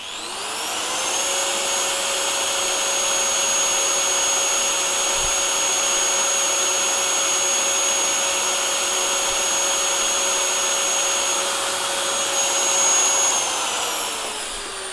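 A Bosch 17mm electric demolition chisel hammer runs steadily for about fifteen seconds, a loud continuous high-pitched motor whine that ramps up smoothly at the start and winds down at the end.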